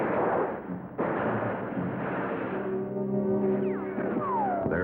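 Rifle fire from enemy riflemen in a jungle battle near an airfield, a dense rumbling barrage of shots and blasts that stays loud throughout, with a sharp burst near the start and a droning tone underneath later.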